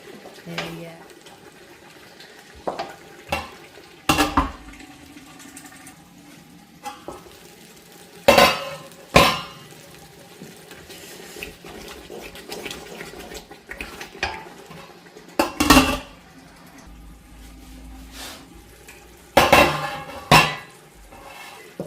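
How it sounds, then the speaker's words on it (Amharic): A spoon scrapes and clanks against a pot as an Ethiopian doro wat onion base, cooked with butter and spices, is stirred over a soft sizzle, in sharp intermittent bursts, with a voice speaking in between. "አሁን ቁሌቱ በደንብ እየተቁላላልኝ ነው።"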